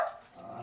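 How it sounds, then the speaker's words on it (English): Dogs bark somewhere in a home, short muffled barks at a moderate distance, brief and without speech over them. "I told you I have dogs."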